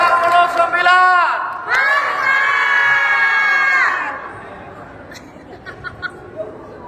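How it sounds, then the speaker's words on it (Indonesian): Crowd at an education talk show and showcase event in Bekasi cheering and shouting loudly for about four seconds, with high children's voices prominent, then fading to scattered chatter and light noise. "Tepuk tangan sekali lagi yang meriah"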